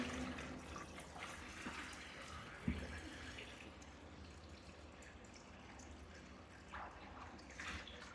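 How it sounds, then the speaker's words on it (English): Water draining down a shower drain after a baking soda and vinegar treatment, a steady faint gurgling wash with one small clunk partway through. "it's definitely draining"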